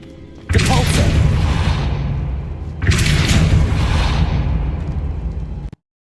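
Two heavy magical blasts from the Depulso force spell in Hogwarts Legacy, each a loud booming burst with a long rumbling tail, the second following about two seconds after the first.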